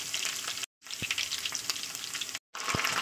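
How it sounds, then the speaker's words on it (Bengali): Chicken pieces frying in hot oil with browned onion make a steady close sizzle, with a few sharp pops and brief stir scrapes, twice cut by short silences. "চিকেনটাকে দিয়ে দিলাম, দিয়ে আমি ভালো করে একটু তেলে খুব ভাজা ভাজা করে দেবো"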